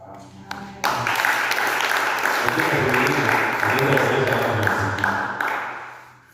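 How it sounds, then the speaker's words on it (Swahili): A church congregation bursts into applause, a dense sustained clapping that swells after a brief pause and then fades toward the end, with a voice speaking underneath. "Nikisikia makofi."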